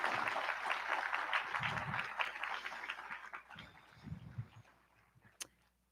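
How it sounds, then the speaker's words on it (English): A crowd at a 2021 high school graduation ceremony applauds graduates, a broad wash of clapping that is already fading at the start and dies away to near quiet, with faint scattered sounds after. "Let's give Luke and Tegan one more round of applause."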